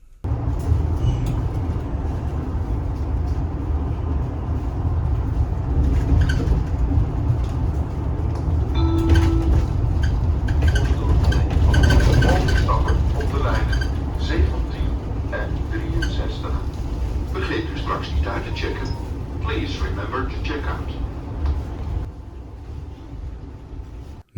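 Inside a modern electric city bus in Amsterdam, a steady low drivetrain hum and road rumble fill the cabin, with rattles, faint chimes and passengers talking softly in the background.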